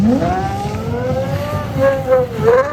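A Bugatti Chiron supercar drives on snow at an Alpine elegance event in Megève, its engine note rising and sweeping steadily with several swells, heard fairly close and continuous.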